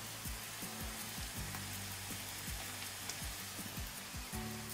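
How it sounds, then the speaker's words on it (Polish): Fresh pappardelle pasta boiling in a pot, a steady bubbling and sizzling hiss with irregular low pops throughout, close and moderately loud, with no talking. "Makaron się gotuje naprawdę szybko."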